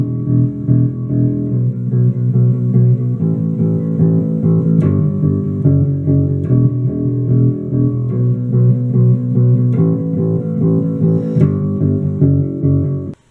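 Bass guitar plays the chorus of a song, with steady picked low notes driving continuously alongside a full band backing, loud and even throughout.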